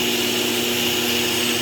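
A steady, loud mechanical whir with a constant hum from a belt grinder running continuously on a blade at close range, with no voices.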